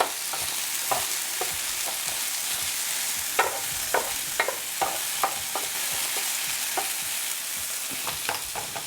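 Food stirred in olive oil on a Ninja Foodi Pro XL grill and griddle, a steady close sizzle with scattered scraping and clicking stirs throughout.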